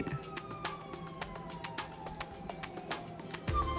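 A wailing police car siren in a video game set in Los Santos, rising and falling in the background, fairly faint, with sharp repeated clicks and a louder burst near the end.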